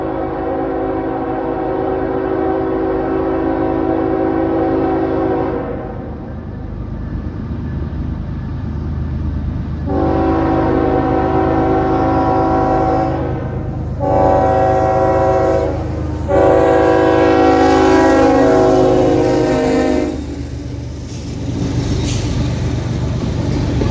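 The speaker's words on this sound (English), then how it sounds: "The aforementioned southbound would be NS 183 with UP 7495 leading SD70 ACU" Southbound freight NS 183 rumbles past, led by Union Pacific SD70ACU 7495 with NS 7252 trailing. Its horn sounds four long, loud blasts over the steady roar of the passing train.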